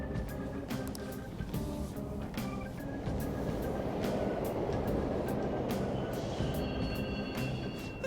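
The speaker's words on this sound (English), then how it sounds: "The trains are totally running!" Subway trains in the Persona 5 video game run past on a platform, a continuous rolling rumble with repeated clicking rail clacks and occasional high squeals, fairly close and unbroken, with no talk.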